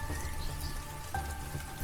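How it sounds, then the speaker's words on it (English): Light rain falls on a homestead garden after a thunderstorm has passed, a soft, steady patter of drops with a few brighter individual taps, close and unbroken, with no voices. "We got light rain instead, which made the air fresh"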